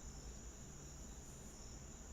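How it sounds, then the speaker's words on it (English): Steady, continuous chirping of crickets heard through an open window, a high constant trill carrying on without pause over a faint low background hum. "You don't like the crickets."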